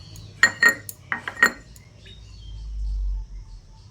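Ginger and green chili paste scraped out with a metal spoon into a bowl, several sharp clinks and taps of metal on dishware close by, followed by a low dull thud; no speech.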